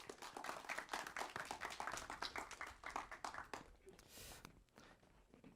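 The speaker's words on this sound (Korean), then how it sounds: "발표를 훌륭하게 맞춰주신 OS팀한테 박수 부탁드립니다." A small group claps for a few seconds after a team's final project presentation, a brief patter of hands that fades out, followed by quiet room noise.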